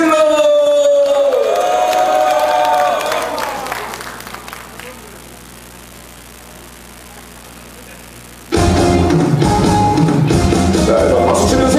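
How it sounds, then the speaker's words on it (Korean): At a book launch, a traditional Korean percussion troupe plays loud drums and gongs that fade out. The quieter lull ends with a sudden burst of crowd cheering and applause. "다시 한번 박수와 환호 부탁드립니다."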